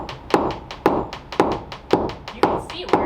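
A small hammer taps a self-built wooden shed double door into place with six evenly spaced, crisp knocks about half a second apart, close and clear.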